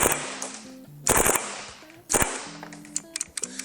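A GHK AKS74U gas blowback airsoft rifle running on black gas fires a few sharp, loud bursts close by, each a quick rattling string of cracks with clacking action noise and brief pauses in between.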